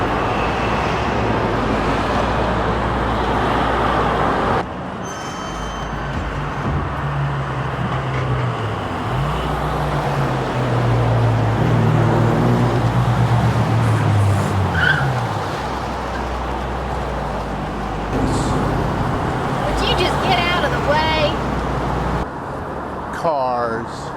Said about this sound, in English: Cars, traffic,